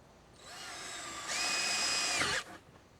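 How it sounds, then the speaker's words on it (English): A power drill bores weep holes in a composite deck railing near a post, running in one short whine of about two seconds that steps up in pitch before stopping abruptly. "we drill a couple of weep holes in about 8 inches from each post"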